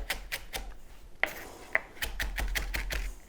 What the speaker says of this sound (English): you're just going to do traditional kind of chopping to get it into small pieces